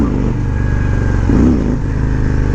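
A 2020 Harley Davidson Road Glide Special with a 114 cubic inch engine rumbles loud and steady while riding, a deep continuous drone with a brief swell of revs midway.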